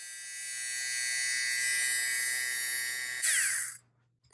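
A Conair fabric shaver runs with a steady high-pitched electric whine and a low mains-like hum, loud and close, shifting pitch briefly near the end before cutting off to silence.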